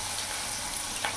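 Drumstick flowers cooking in a pan with salt and turmeric give a brief, even sizzle while being stirred, soft and close with no talking.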